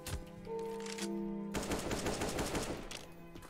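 Rapid bursts of video game gunfire crackle densely through the second half, following a sustained tonal hum at the start.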